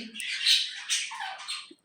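Harsh, shrill bird squawks, a few overlapping calls in quick succession, fairly close and loud with no talking.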